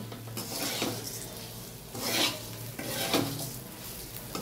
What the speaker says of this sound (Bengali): কাজু বাদাম কিশমিশ তেজপাতা গোটা গরম মশলা দিয়ে পোলাওর চালটাকে ভাজছি, ঘি দিয়ে ভাজছি